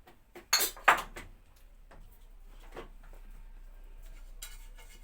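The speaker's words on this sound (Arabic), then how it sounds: "اول حاجه هنزل الصينيه قبل ما اقول لكم المقادير. رشه زيت كده صغيره" A metal baking tray for red velvet cake, about 22 cm, gives two sharp clanks as it is set down. Quieter rubbing and handling noises follow while it is sprayed and coated with a little oil.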